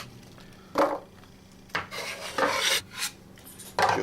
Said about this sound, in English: I'll be reserving these apples here in a roasting pan.